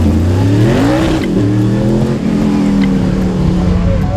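Kevin Mackrell's old Datsun 260Z race car at a hillclimb, its engine revving loudly and close with rising and falling harmonic pitch sweeps, running continuously without talk.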